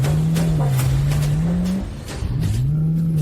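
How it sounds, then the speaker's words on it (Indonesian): A car engine revs up and down in steady, drawn-out swells, holding a droning tone that dips briefly before climbing again, loud and close with no talk over it. "Sekarang, hentikan mobil."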